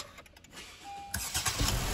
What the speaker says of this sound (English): Let's start the engine and check again.